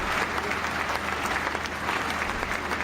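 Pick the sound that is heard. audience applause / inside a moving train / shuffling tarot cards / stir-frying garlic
audience applause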